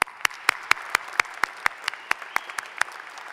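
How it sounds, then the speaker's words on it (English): Applause at a university commencement ceremony, heard as a string of sharp, evenly spaced claps, roughly four per second, fairly close and fading slightly toward the end with no speech. "You deserve a round of applause."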